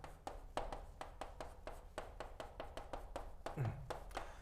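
Students in a science high school chemistry class clapping for a classmate, a series of sharp, distinct claps in a quick steady rhythm, faint and distant in the room.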